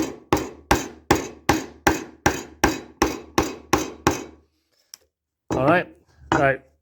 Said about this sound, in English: I'm just going to place my chisel on the line itself, about there, nice and straight